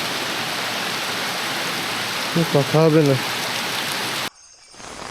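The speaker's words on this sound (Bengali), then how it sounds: "যা ঝাঁকিয়ে বৃষ্টি" Heavy rain pours steadily in a forested hill area during monsoon, a dense loud hiss that runs until it cuts off abruptly near the end, with a short voice speaking over it partway through.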